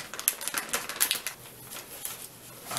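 An MRE pouch holding a sausage patty meal is torn open close up, giving a run of crisp, crinkly plastic-tearing crackles over about three seconds.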